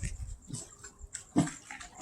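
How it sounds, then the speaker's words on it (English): Water sloshes and splashes in an outdoor pool or basin during a 7.1 earthquake, coming in irregular, moderately quiet surges with a louder splash near the end. "Look at the water down there. All splashed out."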